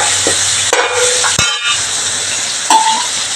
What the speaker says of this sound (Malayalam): ഇതൊന്ന് വഴഞ്ഞ് വരുന്ന വരെ നമുക്ക് ഇളക്കി കൊടുക്കാം